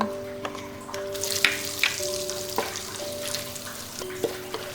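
Satay paste sizzles in hot oil as a utensil scrapes and clinks against a wok, with steady frying hiss and occasional sharp knocks.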